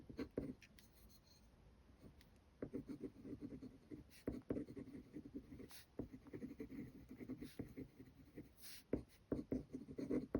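A Kakimori brass nib dip pen scratching across Kakimori paper, soft irregular strokes and taps close up, with brief quiet talk in between.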